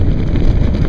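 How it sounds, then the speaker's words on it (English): Strong wind buffeting a moving vehicle on a flat Nebraska highway during a road trip, a loud steady low roar pressing on the microphone throughout, with no other sound standing out. "And that wind's coming off."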